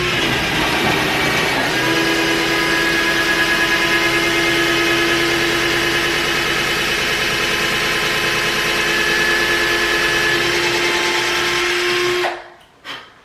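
A power drill drives a big bit slowly into a wood wall, producing a loud, continuous whirring motor tone that holds steady for around twelve seconds and then cuts off.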